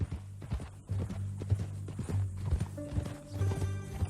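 Horse hooves clip-clop in Red Dead Redemption 2, a steady walking rhythm of close, distinct hoof strikes on the ground with faint music and a low hum behind.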